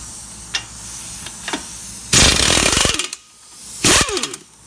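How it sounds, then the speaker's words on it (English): Impact gun on 22 mm brake caliper bolts of a Nissan Murano: two loud, close bursts of rattling hammering against a quiet background, the second shorter than the first. "Okay, now I'm taking them off with an impact gun."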